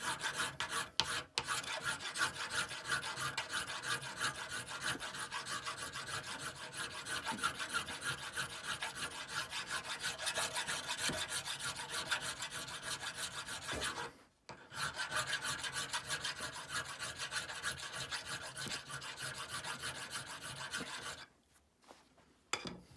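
A hand file rasps across a brass hammer head in steady, rapid back-and-forth strokes, close and continuous, with two brief pauses.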